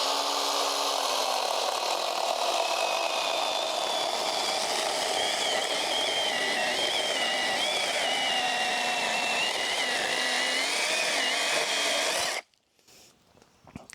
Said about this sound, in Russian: Посмотрим, как большая пила справится.